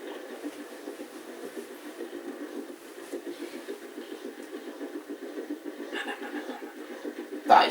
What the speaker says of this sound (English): here's a commuter train coming up